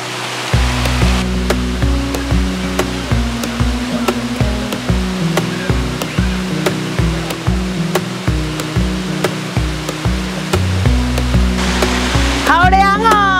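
A waterfall on a wading trail at Huisun Forest Station in Nantou, Taiwan, makes a loud, steady rushing roar that fills the whole stretch, with a tonal musical layer running over it and brief high sounds near the end.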